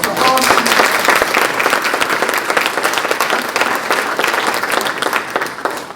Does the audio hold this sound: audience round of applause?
yes